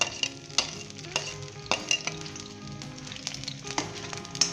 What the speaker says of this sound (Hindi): तेज़ आंच के ऊपर हम इसे हाई मीडियम फ्लेम के ऊपर फ्राई करेंगे